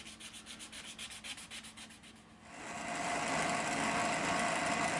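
Knife handle scales of G10 and copper sanded at fine 800 grit: a string of quick, regular rasping hand strokes, then a continuous, louder, even scrubbing hiss, close up.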